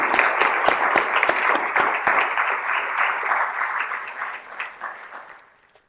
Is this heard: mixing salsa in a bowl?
no